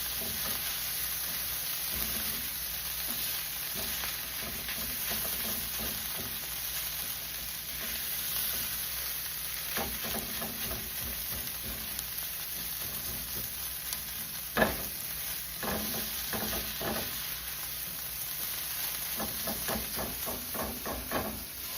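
Impossible meat sizzling and frying steadily in a pan for tacos, a constant close hiss with occasional scrapes and soft clicks, no talk.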